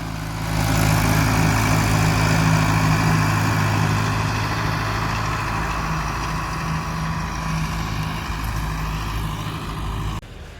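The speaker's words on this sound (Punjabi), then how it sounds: "ਉਹ ਪਿੱਛੇ ਆ ਰਿਹਾ ਜੀ ਆਪਣਾ ਟਰੈਕਟਰ" A tractor hauling a sugarcane load rumbles steadily close by, a loud low engine drone with a heavy throb that holds for about ten seconds before easing off slightly at the end.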